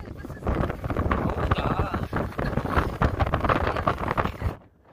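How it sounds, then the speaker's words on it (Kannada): Strong wind buffets a phone microphone on a hilltop during a trek, a loud, continuous rumbling roar with gusting surges that drops away abruptly at the very end. "ನೋಡಿದ್ರಲ್ಲ ಎಷ್ಟು ಜೋರು ಗಾಳಿ, ಎಲ್ಲಿ ಬಿದೋಗ್ಬಿಡ್ತೀವೋ ಅಂತ ಅನಿಸುತ್ತೆ"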